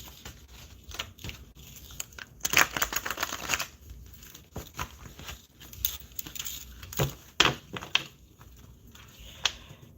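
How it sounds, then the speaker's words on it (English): A deck of tarot or oracle cards is shuffled by hand at close range, giving irregular riffling and snapping bursts over a quiet room. "Even though I shuffled it already, but I want to shuffle it again on camera."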